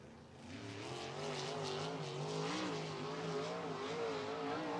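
A sprint car laps Bridgeport Speedway, its engine a strong droning roar with wavering pitch as it circles the track at speed, held steady and fairly close throughout.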